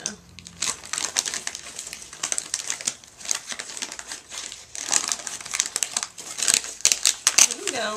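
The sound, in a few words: tearing wrapping paper off a present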